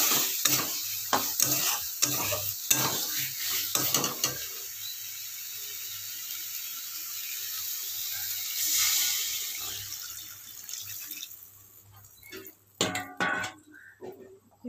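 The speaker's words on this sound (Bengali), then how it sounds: "এবারে আমি এর মধ্যে জল ঢেলে দেব।" Stirring clatters against a pan of frying fish roe fritter curry at first, then water pours in with a loud gushing sizzle that fades to a quieter simmer before more utensil scrapes return near the end.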